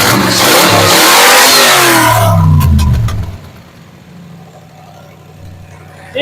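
A C4 Corvette engine revs loudly up close with a rising roar, then drops back to a steady, slightly high idle rumble, with a few metallic clicks and a faint thump at the end, no talking.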